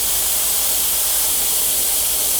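Steady airbrush hiss laying paint onto a dragon hellhound chopper motorcycle, a continuous even spray held at a fair distance from the surface, with no voice over it.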